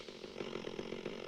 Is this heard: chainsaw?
yes